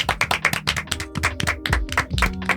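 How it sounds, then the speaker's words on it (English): A small group claps for a high school baseball player of the week in a podcast studio, with irregular close hand claps and taps over a couple of seconds and no talk. "Round of applause to him."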